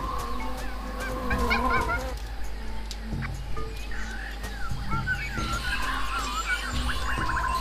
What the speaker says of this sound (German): Vögel.